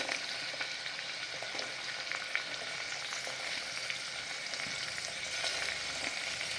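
Tomatoes frying in hot oil for a pea muthiya curry, a continuous even sizzle with faint stirring scrapes, steady and close throughout, with no talking.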